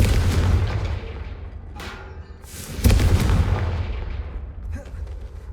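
Confringo spell explosions go off in the game Hogwarts Legacy as several deep, rumbling booms in quick succession, each fading into a low roar.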